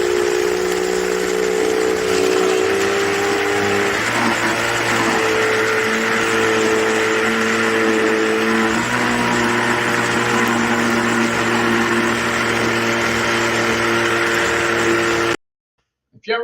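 A home ice cream maker churning Heath pieces and almonds, its motor droning loud and steady like an outboard boat engine, with the pitch shifting a couple of times before it cuts off near the end.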